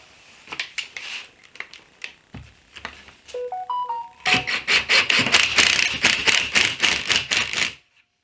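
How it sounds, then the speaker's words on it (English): A phone rings briefly in a woodworking workshop during a DIY patio cooler build: a short electronic melody amid scattered tapping, followed by a long run of loud, rapid mechanical clicks. "And this phone never stops."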